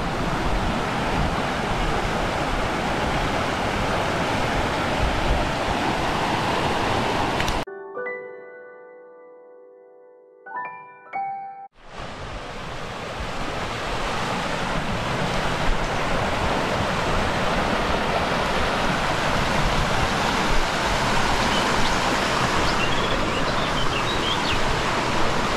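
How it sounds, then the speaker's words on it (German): A mountain stream rushes past mossy stones and pools beside a hiking trail in France near the Way of St. James. The steady, loud, close rush breaks off for a few seconds mid-way, replaced by quiet tones, then returns. "ein wunderschöner Bach"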